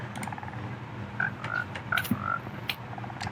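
Frogs croaking in a Minecraft mangrove world, a handful of short synthetic croaks and chirps scattered over quiet ambient game sound, fairly faint with no talking.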